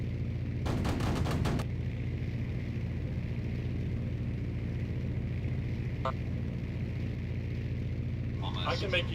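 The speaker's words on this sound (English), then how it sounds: "we'll cut to some clips of actual deflection shooting in the main arena" A short, rapid burst of machine gun fire rings out over a steady aircraft engine drone during Aces High flight combat, with a faint chatter of shots later.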